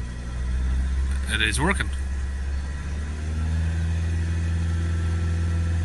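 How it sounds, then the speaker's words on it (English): A Ford Kuga 2.0 Euro 4 engine with a particulate filter soot fault rumbles steadily nearby as it is brought up in revs; someone speaks briefly over the low, continuous engine drone. "when we accelerate the vehicle up"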